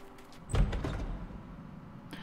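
In the horror game Shadow Shelter, a door opens with a short, muffled thud and a brief rumbling slide, followed by a quieter knock near the end.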